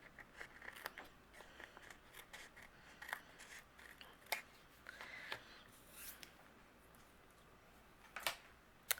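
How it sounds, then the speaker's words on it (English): Scissors snip through excess cardstock and pattern paper while a handmade greeting card panel is trimmed, giving a run of quiet, crisp cuts at uneven intervals with soft paper rustling between them. "all the excess cardstock and pattern paper, you can go ahead and trim off"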